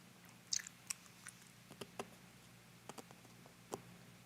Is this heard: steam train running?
no